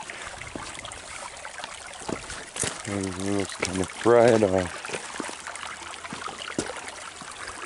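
A creek in burned-over Wild West backcountry runs with a steady, soft trickle and wash throughout, while someone talks briefly over it.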